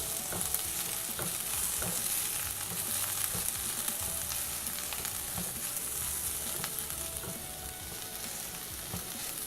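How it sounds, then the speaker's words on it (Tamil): Scrambled egg tossed with vegetables for egg fried rice sizzles continuously in a pan while a utensil stirs in quick irregular scrapes, close and fairly quiet, no talking. "இப்போ வந்து இதை நம்ம இந்த காயோடு சேர்த்து மிக்ஸ் பண்ணிடலாம்."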